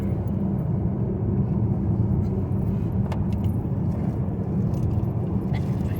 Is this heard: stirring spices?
no